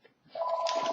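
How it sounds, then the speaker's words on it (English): A telephone rings in a room during scale model kit assembly, a steady electronic double-tone ring rising after a brief soft start, moderately loud with no speech over it. "apologies for the phone ringing in the background"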